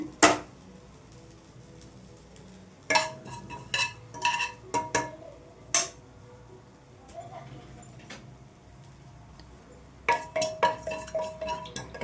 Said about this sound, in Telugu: కొద్దిగా శనగపప్పు ఇప్పుడైతే ఇవి మంచిగా ఫ్రై చేసుకోవాలండి